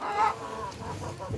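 A creole hen on a home farm cackles loudly before laying an egg, a close, harsh clucking call that trails off into quieter farmyard sounds.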